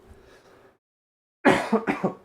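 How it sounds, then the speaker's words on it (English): A man coughs hard in a quick burst of three or four loud, close coughs after a quiet pause, with faint low murmuring early on. "I'm so sorry for the coughing"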